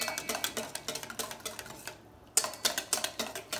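Rapid rhythmic clinking of a whisk against a bowl, close and crisp, in quick repeated strokes with a brief pause midway before resuming.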